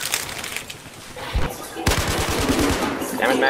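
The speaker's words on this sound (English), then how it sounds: "Sniping with an LMG!" A light machine gun fires in rapid automatic bursts during a video game match, loud and close, with a dense rattle that continues for several seconds amid game noise.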